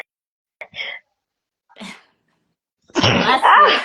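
A single close, loud sneeze bursts out after a couple of short, quieter breaths or sniffs.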